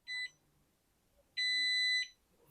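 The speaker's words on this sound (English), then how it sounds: "that long beep means that I was successful" A fingerprint gun safe gives a short electronic beep, then after a pause a longer, steady high confirmation beep, both clear and close in a quiet room.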